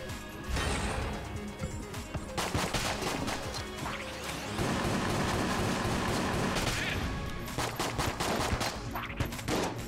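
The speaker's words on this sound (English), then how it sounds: "Use my normal gun to kill you" Rapid repeated gunfire from a standard weapon in the bullet-hell game Enter the Gungeon, dense bursts of shots with crashing impacts running almost the whole time.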